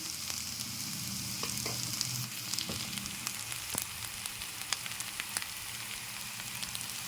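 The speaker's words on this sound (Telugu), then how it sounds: "ఒక స్పూన్ కారం అండి ఇదంతా వేగాలండి" Chili powder, turmeric, salt and chopped onions frying together in a pan for a drumstick, tomato and egg curry, giving a steady close sizzle with scattered sharp crackles and faint scraping of a spoon, no voices.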